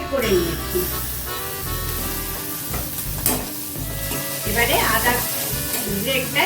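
Grated ginger hits hot oil with a loud, steady sizzle and crackle that runs the whole time, joined by some stirring, while a voice talks over it, for a simple vegetarian Bengali dish.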